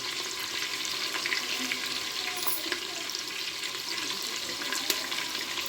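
Onion, cardamom and curry leaves frying in oil and ghee, giving a steady, even sizzle that is fairly quiet and close, with no talk.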